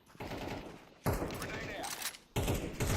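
Video game gunfire rattles in rapid bursts, loud and close, with three separate volleys broken by short gaps and a voice talking between them.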